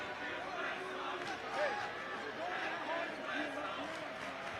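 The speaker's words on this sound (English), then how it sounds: "Now the crowd getting active about it." Crowd at a Montana State at Utah State college basketball game rumbles and rises in a steady, moderately distant roar, with a commentator talking over it.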